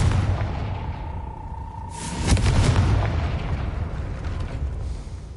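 A Confringo fire spell going off in the Hogwarts Legacy video game, a single muffled boom about two seconds in that rolls into a rumbling burst and slowly fades over steady background noise.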